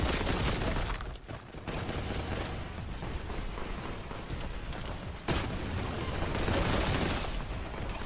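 Gunfire from Space Marine rocket pistols and machine guns in Warhammer 40,000: Boltgun, a dense continuous mechanical rattle of rapid fire with brief breaks, loud and close throughout.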